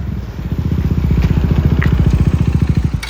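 A KTM Duke 390 single-cylinder engine runs close and loud with a fast, regular pulsing beat and light mechanical clatter, steady throughout.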